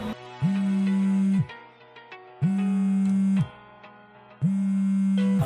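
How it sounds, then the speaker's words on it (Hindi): Mobile phone rings in an office call, three evenly spaced electronic ringtone bursts of about a second each with short melodic pauses between them, clear and close. "अल्ताफ सर का फोन आ रहा है ऑफिस से"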